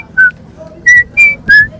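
Someone whistles a short series of clear, high notes, four brief blasts with small gaps between them, close and loud.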